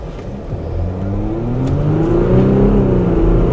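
A 2015 Jeep Grand Cherokee diesel engine accelerates hard, its loud, close drone rising steadily in pitch as it pulls, with no voices over it.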